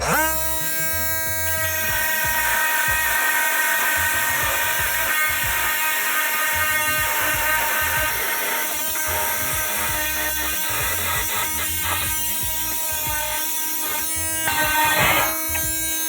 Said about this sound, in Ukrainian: спробую ось цією напівкруглою пильнути алюмінієвий куточок